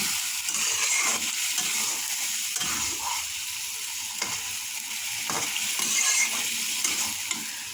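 Stinging catfish pieces, already fried, stir-fried in a spice masala in a pan, with a steady sizzle and frying crackle under repeated scraping and stirring strokes, close and alone with no talk.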